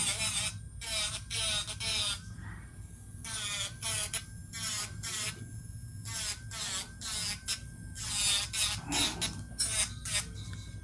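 Electric nail drill bit filing and blending nail powder on a fingernail, giving a close, rapid rasping buzz in repeated short strokes, while a person talks throughout.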